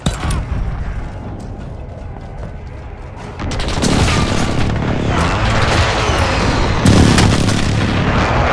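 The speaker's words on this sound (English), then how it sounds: "Enemy precision airstrike." Enemy precision airstrike in Call of Duty: Modern Warfare, heard as a dense, loud barrage of booming explosions and crackling blasts that swells midway and peaks again near the end, with no talk over it.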